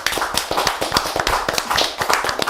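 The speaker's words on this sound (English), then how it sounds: "Can I get a round of applause, please?" A studio audience breaks into a round of applause for a guest settling in for an interview, with dense, rapid hand claps that stay steady and loud throughout, and no talking over them.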